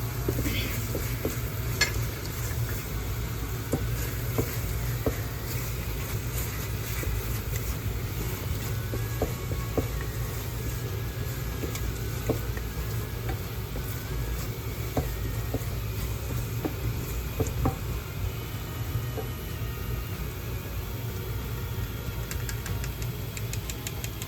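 Garam masala being sautéed in a pan for mutton biryani, with a steady sizzle and occasional scrapes and taps of a spoon stirring the spices close by, continuous with no talking.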